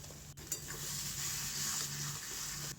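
Banana flower curry simmering in a pan on a medium-low flame, a steady close bubbling sizzle with faint stirring touches, continuous and without talk.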